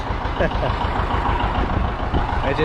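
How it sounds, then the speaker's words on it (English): A farm tractor idles while warming up before feed grinding, a steady low engine rumble running throughout at close range, with a voice speaking over it. "Just letting the tractor warm up here for a little bit"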